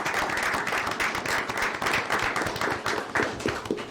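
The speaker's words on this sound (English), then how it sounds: "let's give her a great round of applause for serving" Steady applause from a council meeting audience honoring a volunteer city committee member, dense clapping sustained throughout at even loudness with no talk over it.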